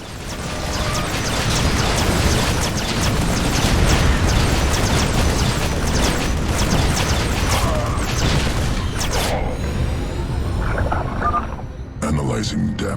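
An experimental warhead detonating in a StarCraft 2 cutscene: a loud, sustained roaring blast with rumbling debris and crackling bursts that fades into quieter mechanical and eerie tones.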